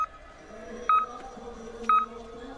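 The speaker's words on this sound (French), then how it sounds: "Vous entendez le petit bip et le départ pour Ingrid Tendrevold" Two short electronic start beeps about a second apart signal skiers leaving the gate at a women's biathlon sprint at Sjusjøen, heard over steady background crowd and commentary ambience.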